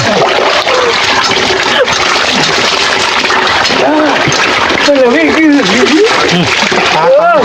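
Water splashes and pours over a child during a bath at home, loud and close, with continuous sloshing under voices talking throughout.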